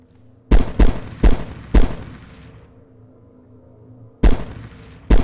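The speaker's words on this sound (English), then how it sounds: "I think they're trying to shoot me through the walls." Bursts of gunfire in the DayZ mod, with four quick loud shots in a row followed by a pause and then two more sharp shots, each ringing out with a decaying echo against a low background hum.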